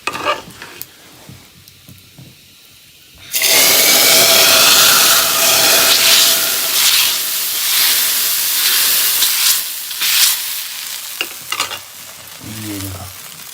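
Tadka tempering for kandali bhujji hitting hot oil in a sudden loud sizzle that bursts in after quiet stirring, then keeps hissing and crackling steadily with stirring before easing off at the end.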